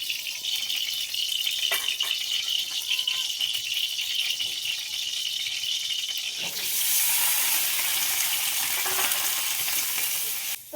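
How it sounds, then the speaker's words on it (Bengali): Flat beans frying in a pan, a steady crackling sizzle with rattling stirs, growing louder and hissier partway through, no voices. "তো এবার আমি সিমগুলো ভেজে নেব।"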